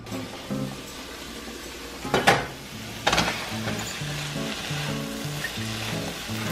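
Onions frying in a covered pan with spinach still to come, giving a steady close sizzle under a low rhythmic hum, with two brief louder clattery bursts near the middle.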